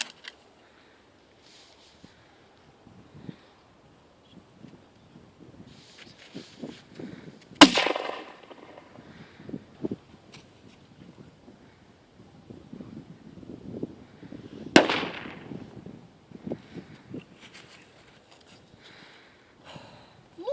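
Two sharp, loud pops several seconds apart from an airsoft grenade launcher firing stand out over faint wind and rustling outdoors.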